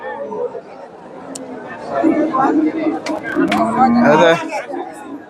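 Cattle at the busy Chandaikona cow market in Bangladesh give a few lowing moos amid crowd chatter, with nearby voices talking over the animals.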